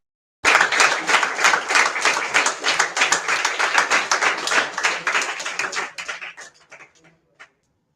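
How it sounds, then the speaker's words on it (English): A classroom audience claps after a student presentation, a lively burst of many hands close by that stays steady for several seconds, then thins and dies out, with a few last stray claps. "A big round of applause for her."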